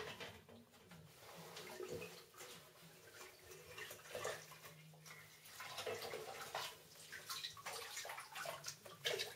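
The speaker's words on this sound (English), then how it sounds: "rinse the filter media and the sponge in the water that we've just taken out" Aquarium filter sponge from a marine tank being rinsed and squeezed in a container of removed tank water, with steady sloshing and splashing that rises and falls for several seconds, close by and moderately loud.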